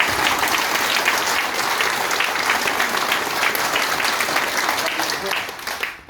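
A large seminar audience claps together in a sustained, dense wash of applause that stays loud and even, then thins out and fades near the close.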